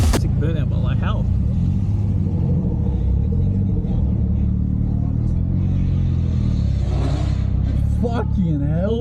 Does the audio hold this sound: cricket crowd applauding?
no